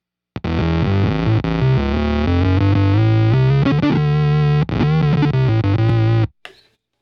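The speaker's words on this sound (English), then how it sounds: "It's my octave fuzz, so I really love it." Electric guitar through an octave fuzz pedal set to monophonic octave down, playing a thick, buzzing single-note line for about six seconds, loud and close, ending abruptly with a short tail.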